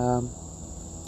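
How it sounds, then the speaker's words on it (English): A dense, steady drone of cicadas hums in the background on a residential block in the morning; a tonal sound fades at the start, and a brief faint chirp appears near the end. "If you hear those cicadas sounds in the background"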